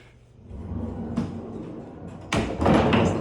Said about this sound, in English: We have this wonderful sliding door for the laundry.